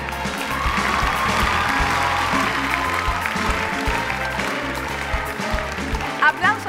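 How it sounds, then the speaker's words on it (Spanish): Audience applause at a gala song competition in Cuba, steady dense clapping filling the hall throughout, with some musical tones and sustained crowd noise underneath. "Aplausos también para la mujer a la que el guionista Orlando Quiroga denominó la musicalísima."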